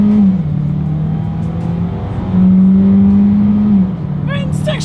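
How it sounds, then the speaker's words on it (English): A 2021 Hyundai Kona with a naturally aspirated engine accelerating, heard from inside as a steady engine drone that rises in pitch, drops at a gear shift, then climbs again. "let's go ahead and do an acceleration test here, and let's see how quickly we can get the new 2021 Hyundai Kona here up to speed"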